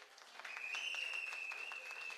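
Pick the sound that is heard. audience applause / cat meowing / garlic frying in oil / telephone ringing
audience applause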